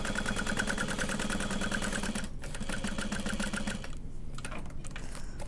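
A sewing machine bastes layers of fabric together for a bag lining, its needle running in a steady, close, continuous mechanical hum with rapid regular stitching pulses, briefly easing off partway through before resuming.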